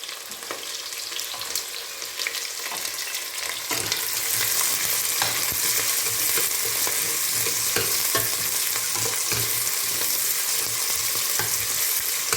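Vegetables, squash and green pepper stirred in a hot pan with onions and spices, a steady close sizzle and frying hiss with scraping spoon strokes that grows louder partway through and continues without talk.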